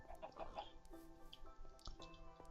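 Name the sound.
chickens clucking in the video game Minecraft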